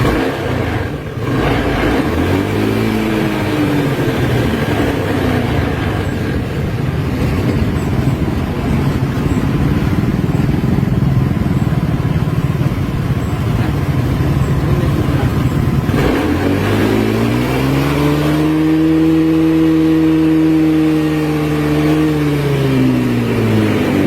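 A Honda scooter engine idles with a steady rough hum, then revs twice, the pitch climbing and falling back each time. It is close and loud, with no talk.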